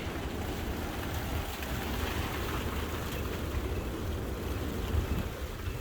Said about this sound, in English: here's the rain proper, like. You hear it?